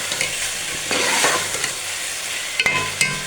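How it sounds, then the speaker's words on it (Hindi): Chicken sizzles as it fries in a pan while being stirred, a steady hiss broken by scraping and clinking of the spoon against the pan. "इसको फ्राई करते हैं"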